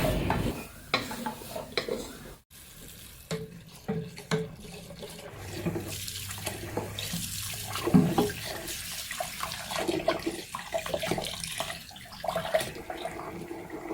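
Boiled chickpeas are rinsed and stirred by hand in water at a sink, giving a continuous sloshing, swirling wash with scattered splashes and the occasional brief gurgle. It stays close and fairly steady throughout, and no one speaks.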